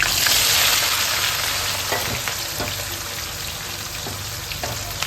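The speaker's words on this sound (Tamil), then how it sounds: "வெங்காயம் நல்லா வேகட்டுங்க" Onion, garlic and green chillies fry in a pan for a fish curry, giving a steady loud sizzle with a few soft stirring knocks, with no voices.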